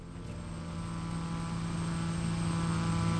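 Cabin drone of a Twin Otter propeller airplane in flight on approach to Lukla airport, a steady loud tonal hum with a throbbing engine buzz, continuous and slowly swelling, with no voices.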